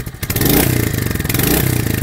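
A 2025 Royal Enfield Hunter 350 motorcycle rides over potholes with a loud, close, pulsing single-cylinder engine note, plus some clatter and rattle from the rough road.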